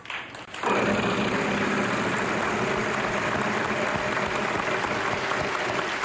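Wheel of Fortune game show wheel spun by a contestant in the studio, a steady broadband clattering whir that starts after a brief pause and runs continuously at full strength to the end.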